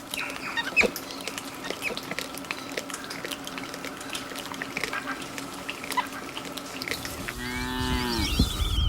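Cattle on a Brazilian farm among sugarcane fields let out a loud, drawn-out moo near the end, preceded by a steady outdoor background with faint scattered animal sounds.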